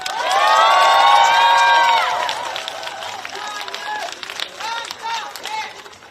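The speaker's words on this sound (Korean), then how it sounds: "박수 한번 주세요" An outdoor election rally crowd in Gangnam cheers, shouts and claps for a candidate days before a general election, with loud sustained whoops at first giving way to scattered shouts and applause.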